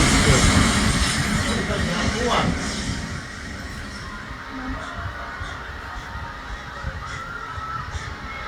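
Loud rumbling of a passing train with rattling wheels, fading to a steadier lower drone midway, with voices chatting faintly in the background.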